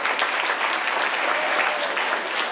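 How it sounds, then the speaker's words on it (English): A crowd applauds the mayor at a Westwood High School speakers bureau event in Fort Pierce, giving steady, dense clapping that fills the room at even volume throughout. "Put your hands together for our mayor"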